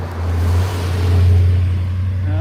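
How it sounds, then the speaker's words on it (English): A loud truck rumbles past on a side road, a steady low roar that swells and then eases over a couple of seconds, heard outdoors without speech. "Loud truck coming by."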